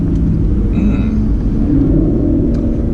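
A 2017 Aston Martin Vanquish S engine rumbles steadily while driving, a dense, continuous low drone heard close and loud throughout with no breaks.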